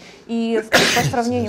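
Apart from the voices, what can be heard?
sneeze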